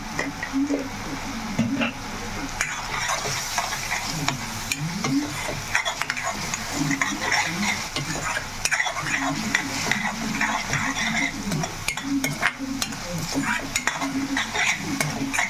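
Masala frying in a pan for a chicken gravy, a continuous low sizzle with frequent scraping and stirring strokes of a spoon against the pan, steady and close, with no talking.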